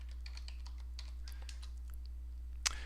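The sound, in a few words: typing on a computer keyboard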